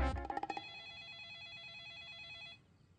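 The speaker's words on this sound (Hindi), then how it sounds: "फोन बज रहा है" A mobile phone rings alone with a steady electronic ringtone of repeated warbling beeps that runs for about two seconds and then stops, with a brief clatter at the start.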